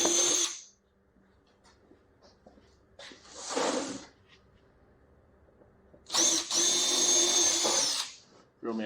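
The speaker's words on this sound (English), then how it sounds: "Drill me a couple starter holes." A cordless power drill whines in three separate bursts while boring half-inch starter holes in wood for teardrop camper galley cubbies, with brief lulls between bursts and the last burst the longest.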